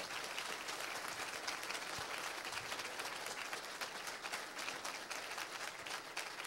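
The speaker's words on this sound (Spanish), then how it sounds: "Démosle un aplauso al Espíritu Santo" Sustained congregational applause fills a church service, a dense, steady wash of many hands clapping with no pauses, fairly loud and even throughout.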